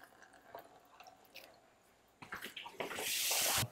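Water flows again after a smart water shutoff valve is switched back on. It starts faint, then builds in surges into a loud, rushing hiss near the end.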